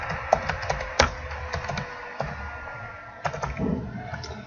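Typing on a computer keyboard, with scattered key clicks and taps close by that come in irregular bursts over a low room hum, and no talking.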